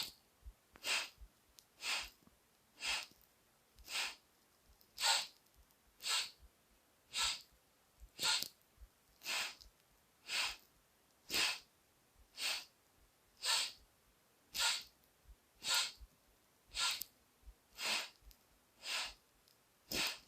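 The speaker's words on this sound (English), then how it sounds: "So it's 4 to inhale and then 4 to complete your exhalation." Segmented breathing exercise with a four-count inhale and exhale: short, even breath pulses repeat in a steady rhythm, roughly one per second, close and soft with quiet gaps between them.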